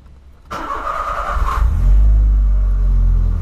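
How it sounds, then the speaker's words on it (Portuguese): A Volkswagen Polo TSI fitted with a large exhaust starts up close by, catching with a sharp burst and then settling into a loud, deep rumbling idle that swells briefly as it revs. "o carro tá fazendo barulho top"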